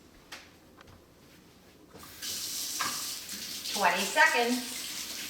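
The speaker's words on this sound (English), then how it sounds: "gotta wash those hands" A kitchen tap runs as hands are washed before making ice cream lasagna, a steady close splashing hiss that swells midway, with a voice speaking briefly over it.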